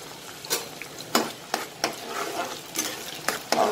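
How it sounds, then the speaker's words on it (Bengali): Garlic sizzles in hot mustard oil while being stirred, with a steady frying hiss broken by several sharp scraping strokes of a spatula against the pan, close and moderately loud, with no talk. "রসুনটা এখন আমি একটু ভাজা ভাজা ব্রাউন কালার করে নেব।"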